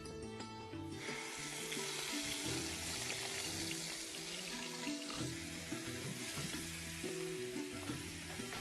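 Masala paste of tomato and onion frying in ghee in a pan, a continuous close sizzle and crackle with some stirring scrapes, steady and fairly quiet throughout.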